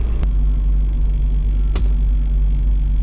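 Volkswagen Golf 2 GTI engine idling smoothly with a steady low rumble, close and constant, with two brief sharp ticks over the hum.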